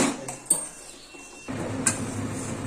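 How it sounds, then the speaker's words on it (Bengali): A spatula scrapes and clinks against a pan while stirring homemade ghee, with a couple of sharp metallic taps over a low bubbling hiss that rises partway through, close and fairly quiet. "দেখো এইভাবে কন্টিনিউ নাড়তে থাকতে হবে না হলে আবার তলায় ধরে যাবে"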